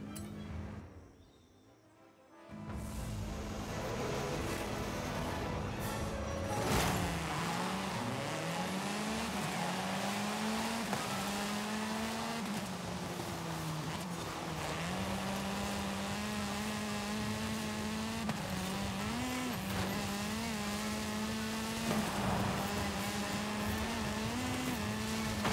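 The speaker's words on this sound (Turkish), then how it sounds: "Araba zaten direkt kendisi kayıyor bu arada" An Aston Martin in Forza Horizon 5 slides with a loud, sustained engine drone whose pitch wavers as it drifts, broken briefly by a short dropout near the start and carrying faint tire squeal throughout.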